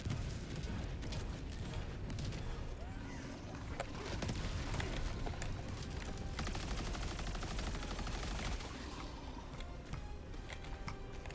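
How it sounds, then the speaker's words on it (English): A napalm barrage in Helldivers 2 pounds away with rolling booms and blasts, mixed with rapid machine-gun fire, a dense continuous roar throughout that sounds somewhat distant. "that's a napalm barrage"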